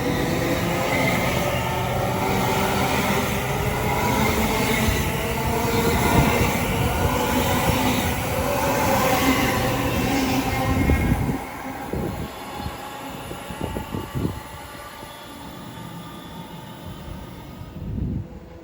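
A train rolls through Watford Junction on the West Coast Main Line with a loud, steady rumble of wheels on track, then breaks into clattering rail joints and a thinner, high whine as it moves off.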